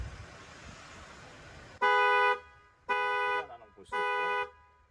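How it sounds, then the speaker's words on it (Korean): Chevrolet Bolt EV horn sounded by OnStar remote command, three loud, evenly spaced honks, each about half a second, over faint background hiss. "경적 켜기를 누르면은"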